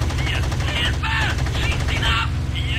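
Aircraft cannons fire in rapid, repeated bursts over a constant loud engine drone during a dogfight in the IL-2 Sturmovik 1946 flight combat game.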